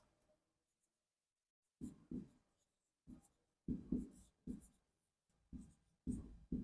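Pen scratching on paper while working a physics circuit problem, a series of short close strokes in bursts with quiet pauses between, no talk.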